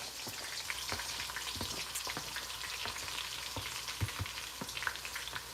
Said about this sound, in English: So I am going to add my onions. We're gonna let the onions saute